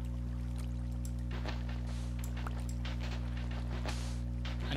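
Water flows in the video game Minecraft, a steady pouring trickle with splashy bursts over a constant low hum, moderately loud and continuous, with no talk.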